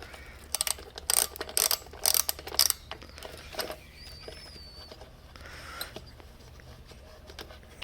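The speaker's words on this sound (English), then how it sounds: "here is the 10 millimeter socket right here" A 10 mm socket ratchet works on a Honda CBR600RR motorcycle, with several quick bursts of close, sharp clicking early, then fainter intermittent mechanical ticks.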